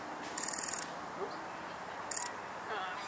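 Two short bursts of rapid, high-pitched blackbird chatter, close by, separated by a pause, over a soft steady background hum.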